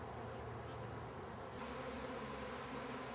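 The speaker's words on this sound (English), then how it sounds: "you can see the bees moving around, and then they'll congregate back in front of the hives" Honeybees swarm in front of their hives, a steady dense buzzing drone from many insects filling the air, close and continuous with no talk.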